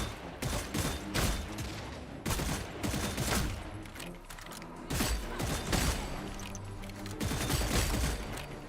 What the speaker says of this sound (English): Who just shot me? Who is shooting?